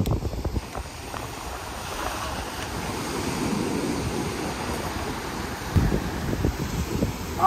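Ocean waves washing onto a beach, a continuous rushing surf with wind buffeting the microphone and a louder wave surge near the end, no voices.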